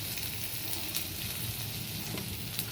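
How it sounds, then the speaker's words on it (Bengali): Potatoes frying with turmeric and salt in a pan with little oil, alongside tomato, onion and chili, giving a steady close sizzle with faint stirring clicks. "ভালো করে এটা ভাজবো।"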